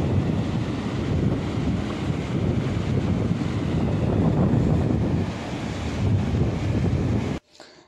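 Sea waves break and wash steadily onto Bhavanpadu beach near Tekkali in Srikakulam district, with strong wind buffeting the microphone in a loud, continuous roar that cuts off abruptly near the end.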